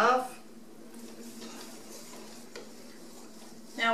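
Bread dough with yeast being mixed in a bowl with a whisk, faint scraping and light ticking strokes between voices at the start and end.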